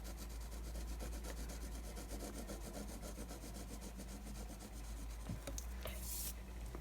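A colouring pencil shades back and forth on paper while drawing, a steady close scratching rub that keeps going for several seconds, with no talking, under a low background hum.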